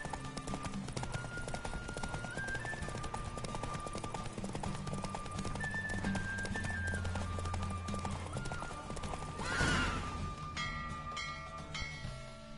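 Horse hooves clip-clop at a steady gallop during a race in The Witcher video game on PS4, a continuous rapid rhythm with game music layered underneath and a brief whoosh near the end.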